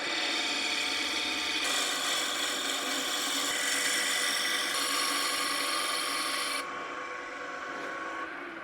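Continuous rasping, scraping sound of a roughing gouge taking a light pass on spinning wood on a lathe, steady and loud, with tone shifts as the cut changes.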